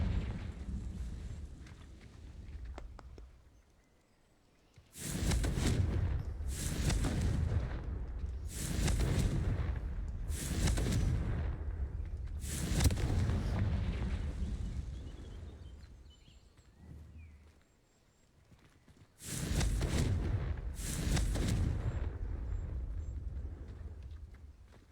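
Repeated fire-spell blasts in the video game Hogwarts Legacy, a series of loud booming bursts of several seconds each, separated by brief quieter gaps.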